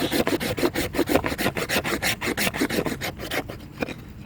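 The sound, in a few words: scraping shavings off fatwood pine stump wood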